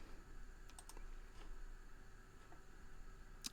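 Light tapping on a computer keyboard at a model railway control setup, a few soft, scattered keystrokes, faint and close, with no talk.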